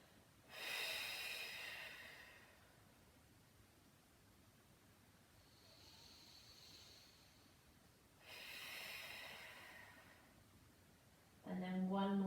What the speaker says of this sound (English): So just have a few deep breaths here.